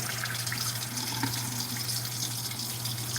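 Hot water runs steadily from a kitchen tap over dishes in a sink, a constant close gushing wash with a low hum beneath and no talking.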